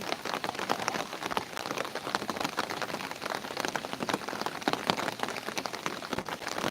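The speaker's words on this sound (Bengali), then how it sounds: "পূর্বে এত বৃষ্টি কখনো দেখিনি রেকর্ডবিহীন বৃষ্টি পড়ছে" Heavy, continuous rain falls during a river flood, a dense steady hiss of drops pattering on surfaces nearby without a break, no voices over it.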